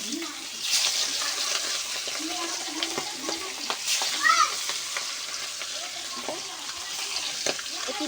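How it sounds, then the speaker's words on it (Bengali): Marinated fish frying in hot oil in a hot kadai, a loud steady sizzle with crackling spatters and stirring clinks throughout. "কড়াইটা গরম হয়ে গেছে, এবার মাছটা ভেজে নেব"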